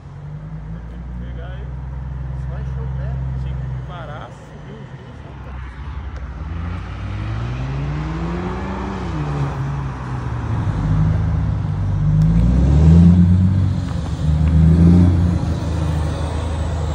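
A BMW fitted with a 3-inch stainless steel exhaust revs repeatedly, with several loud, close swells rising and falling over a rumbling idle and a gruff exhaust note throughout.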